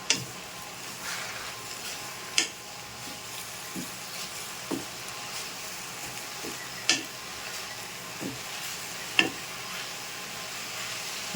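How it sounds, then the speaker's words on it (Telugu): Curry leaves fry in hot oil in a pan, giving a steady soft sizzle with sharp pops and crackles scattered through it and no voices. "ఇప్పుడు ఈ కరివేపాకు కూడా వేపేసుకుందాం."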